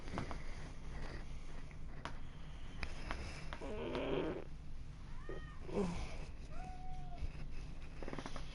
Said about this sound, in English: Somebody's cat is purring.